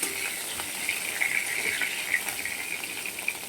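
Sliced onion sizzling in hot oil left over from frying fish pieces, a steady close hiss with faint crackles and light stirring spatters throughout, no talking.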